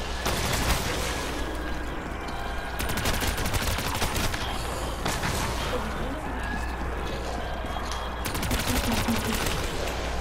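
RPK machine gun firing in Call of Duty Black Ops III zombies on the Kino Der Toten map, rapid continuous bursts of gunfire under a dense game soundscape, with a voice talking over it.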